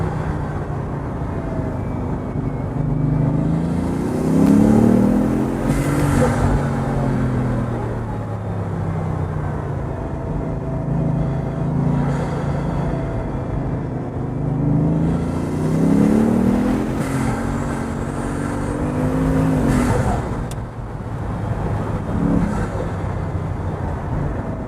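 A Bugatti or Lamborghini sports car accelerates hard and loud, its engine note rising and swelling in repeated surges over a steady roar, with no voices.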